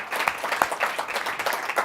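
A crowd claps vigorously at a launch event, a full, continuous burst of applause from many hands, near and loud, with brief peaks of sharper claps rising and falling throughout.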